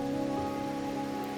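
Steady rain falls in Wuthering Waves, a soft even hiss with a faint tonal hum of background music beneath it, no voices present.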